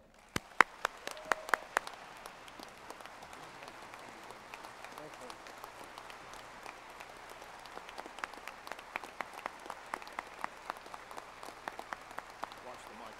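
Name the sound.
audience applause welcoming a basketball coach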